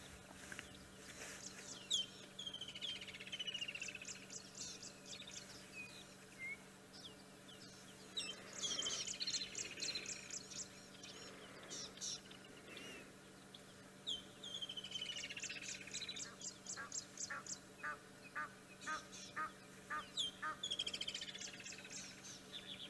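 Bird calls ring out at sunset in the Sabi Sands game reserve, South Africa: repeated rapid chirping phrases and tweets over a steady low hum, fairly close and clear, with no talking.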